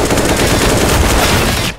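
A continuous burst of AK rifle fire in the game CS:GO, loud and rapid, lasting under two seconds before cutting off abruptly.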